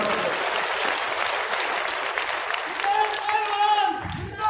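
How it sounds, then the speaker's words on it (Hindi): Applause from a crowd at a political speech, a steady patter of clapping with someone speaking over it and some cheering near the end. "एक बार जोरदार ताली"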